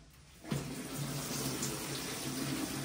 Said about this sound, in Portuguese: Já vou preencher com mais água.